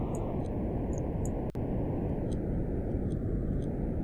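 Rocket engine firing in Kerbal Space Program, a steady, loud broadband roar that runs unbroken for several seconds, with one brief sharp click near the middle.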